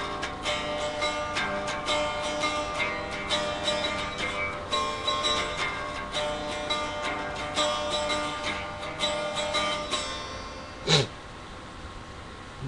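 An acoustic guitar strums chords in a steady, moderately quiet rhythm, with one sharper accented hit near the end.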